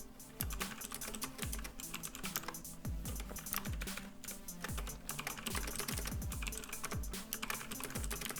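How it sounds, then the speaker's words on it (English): Fast, continuous typing on an Azio MGK1 RGB mechanical keyboard, with crisp, close, loud key clicks and clacks in quick irregular bursts and no voice over them. "For those of you that are really interested in the sound of the keyboard, I'll go ahead and play a sound sample for you now."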